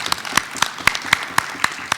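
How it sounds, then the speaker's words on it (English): A conference audience clapping at a panel session, a short burst of sharp, fairly loud claps in an uneven rhythm heard close. "I would like to ask all the audiences to give applause for all yourselves, please."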